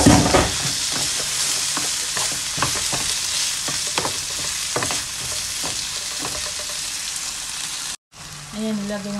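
Onions frying in a pan crackle with a close, busy sizzle, punctuated by repeated stirring scrapes and clacks, ending abruptly in a brief cut before the frying resumes.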